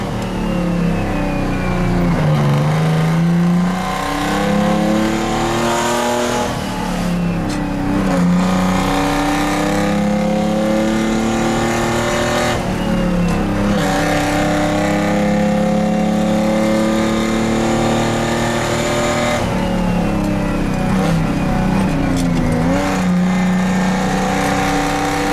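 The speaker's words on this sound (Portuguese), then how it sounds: "Pelo fato do motor ser de origem GM e seu ronco único, os norte-americanos apelidaram de Screaming Jimmy ou Jimmy Gritante." A Detroit Diesel two-stroke GM engine, known as the Screaming Jimmy, roars loud and close, rising and falling in repeated revving cycles with a harsh, buzzing tone throughout.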